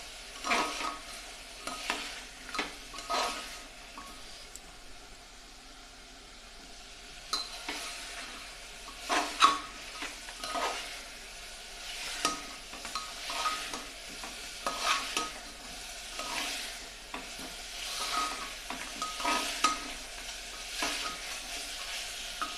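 Grated ginger and garlic sautéing in a pan for chicken stew, a quiet steady sizzle punctuated by repeated close scrapes and stirs of a spatula, with no talking.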